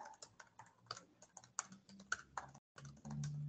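Fast typing on a computer keyboard, a quick irregular run of light clicks and key taps, close and fairly quiet, with a short pause near the end.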